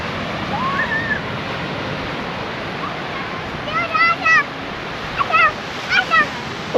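Surf washing in steadily at Twilight Beach, Esperance, Western Australia, a constant broad rushing wash of waves with light wind, while people chat nearby over it.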